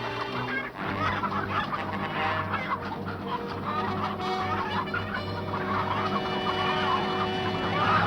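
Chickens cluck and squawk continuously near a barn in a war drama, a busy, fairly loud flock chatter running the whole time with a low steady background hum.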